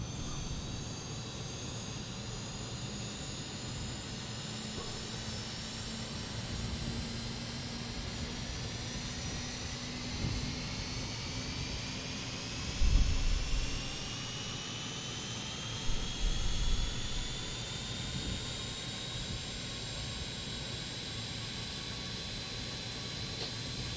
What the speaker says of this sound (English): So engine number 4 is starting.